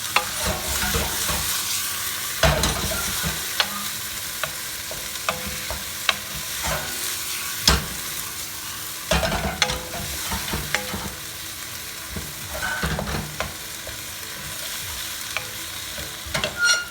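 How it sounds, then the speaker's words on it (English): Green chili chicken frying in a pan with soy sauce, a steady loud sizzle broken by repeated scraping stirs of the spatula, close and continuous with no talking. "Let it cook a little bit with the soy sauce."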